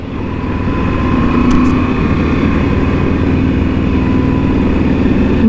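A Moto Guzzi V7 Stone motorcycle engine, 850 or 750, hums steadily and loudly close by, a continuous low droning tone with no break and no voices.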